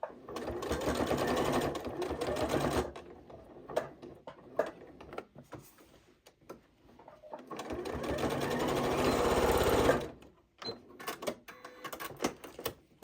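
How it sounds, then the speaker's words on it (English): A Janome 8200 QCP sewing machine runs in two sustained bursts of close, steady stitching around a fabric bowl cozy, separated by short pauses filled with small clicks and handling noises. "So I'm just going to turn the corner and stitch down to about here, back stitch, and stop."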